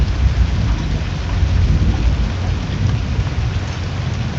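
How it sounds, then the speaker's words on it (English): Heavy rain and hail drum on a car during a thunderstorm while storm chasing, a dense, loud, continuous roar with low rumbling throughout and no voices. "Oh, there's hail hitting me."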